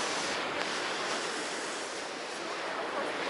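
Sea waves washing onto a beach, a steady, broad roar of surf that stays fairly close and continuous throughout, with light wind noise and no talking.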